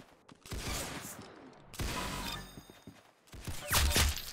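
Gunfire from the Roblox shooter Arsenal erupts in three loud, dense bursts of rapid shots, each a second or so long and separated by short pauses.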